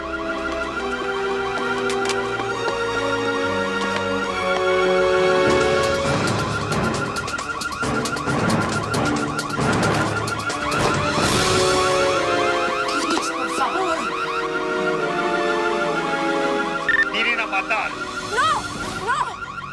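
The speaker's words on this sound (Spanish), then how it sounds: "Es una alarma." A house alarm blares in repeated rising and falling electronic wails, loud and continuous, while voices speak intermittently over it.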